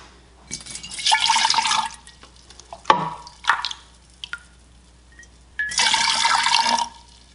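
Water poured from a container into a measuring cup for yarn dyeing, arriving in several bursts of splashing and trickling separated by brief pauses, close and fairly loud, with a few knocks in between.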